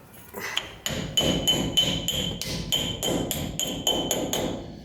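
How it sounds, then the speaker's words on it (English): A steel hammer taps repeatedly on a metal bearing cap during a disc brake conversion on a 1947-1959 Chevy truck, about a dozen sharp ringing strikes in a steady rhythm, close up. "I just use a steel hammer"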